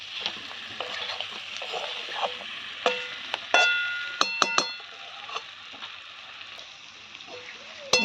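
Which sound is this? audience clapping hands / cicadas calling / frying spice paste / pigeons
frying spice paste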